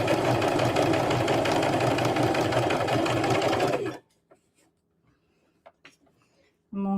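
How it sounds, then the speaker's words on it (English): A sewing machine back tacks a seam, running loudly and steadily for about four seconds before stopping, followed by quiet small handling clicks and a short burst at the end. "I'm just back tacking it."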